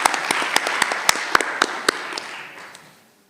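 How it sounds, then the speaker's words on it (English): Conference audience applause, light and scattered claps from a modest crowd that taper off and fade to quiet within a few seconds. "Thank you for the applause."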